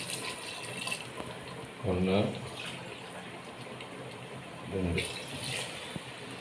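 Water pours into a pot of mutton for biryani, a steady splashing pour that swells twice in brief bursts under a faint background, while a person speaks nearby.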